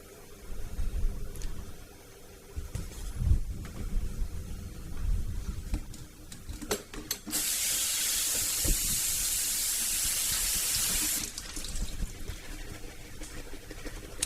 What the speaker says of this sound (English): so I'm just going to wash those first